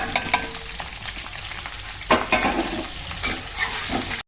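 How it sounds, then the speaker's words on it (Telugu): Onions fry in about two spoons of hot oil in a kadai for mushroom pulao, a loud close sizzle with spatula scrapes and clinks, ending abruptly. "ఉల్లిపాయలు వేసుకుందామండి."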